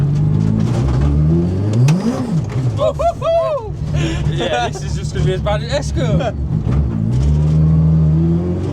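The Micrabusa project car on its first drive, its engine revving up and down hard through several climbing whines, close and loud while someone talks over it.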